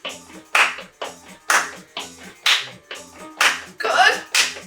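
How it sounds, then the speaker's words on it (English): Sharp single hand claps land at a regular beat, about one per second, during a chair-based interval workout class, each clap crisp and close with a faint voice counting between them. "Do you think we could count or clap on 4?"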